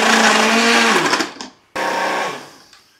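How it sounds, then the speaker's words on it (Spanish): A blender grinds frozen mango and acai for an acai bowl in a loud, close whir that winds down, then starts again for a second burst that fades. "Ahora sí, licuadora."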